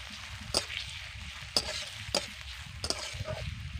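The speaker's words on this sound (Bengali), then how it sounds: "কেটে রাখা পেঁয়াজ এবার তেলের মধ্যে দিয়ে দিচ্ছি এবার ভালো করে পেঁয়াজটাকে ভেজে নেব" Chopped onions frying in a small amount of oil for a fish curry with drumsticks, potato and papaya, a steady soft sizzle with four sharp stirring scrapes spaced about a second apart, close and fairly quiet.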